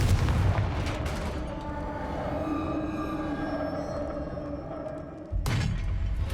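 A Confringo blasting spell from Hogwarts Legacy goes off as a loud, rumbling explosion. It decays over several seconds, then a second sharp blast hits near the end.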